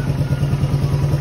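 Motorcycle engine idling while warming up before a restoration teardown: a steady, close, loud low putter with a regular pulsing beat.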